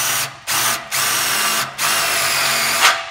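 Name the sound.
drill countersinking a screw hole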